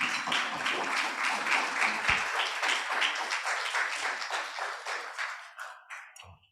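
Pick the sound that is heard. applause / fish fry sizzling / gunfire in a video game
applause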